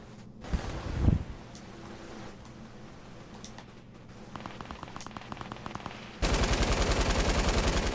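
Gunfire in the video game Fortnite, shooting at trees: scattered single shots, then a rapid run of bursts, ending in a loud sustained stream of automatic fire, with wind-like noise underneath.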